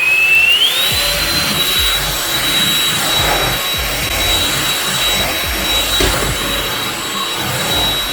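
A Ljuren P11 cordless vacuum cleaner runs loud and steady for the whole stretch, with a high whine that rises at the start and then holds, over broad airy rushing and some rumbling.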